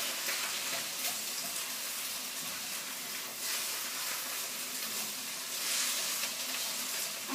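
Vegetables stir-frying in a pan with a steady, broad sizzle that holds evenly throughout, close and moderately loud, with no talking.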